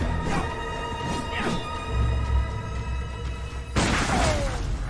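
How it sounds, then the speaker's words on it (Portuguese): A visceral attack in a Bloodborne-style action video game lands with heavy booming thuds and whooshing strikes, then a sudden bright crash near the end, loud and close, under sustained tonal background music. "Deu ataque visceral."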